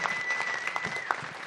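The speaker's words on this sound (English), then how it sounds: "Can we have a round of applause for Nish Kumar turning 30?" Faint audience applause from a live comedy show crowd at the Edinburgh Fringe, a brief patter of clapping with a thin steady whistle-like tone running through it.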